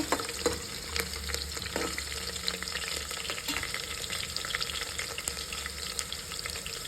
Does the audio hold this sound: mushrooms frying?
yes